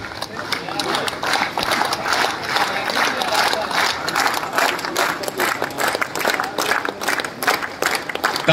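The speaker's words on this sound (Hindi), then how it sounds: "तालियों की गड़गड़ाहट कम क्यों है" Dense, steady audience applause fills a motivational talk event, a continuous roar of many hands clapping with crowd voices mixed in throughout.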